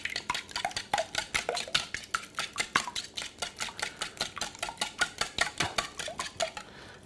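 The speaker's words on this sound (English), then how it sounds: "we're going to go ahead and beat that up. Get those eggs broken up in there." Eggs being beaten in a bowl with a utensil, a fast, steady stream of light clicking and tapping strokes against the bowl, close and continuous with no talking.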